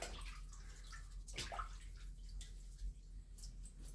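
A paintbrush is rinsed under running water to wash out paint, a soft continuous splash and trickle with a brief louder gush midway, with no speech.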